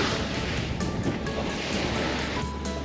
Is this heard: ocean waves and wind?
yes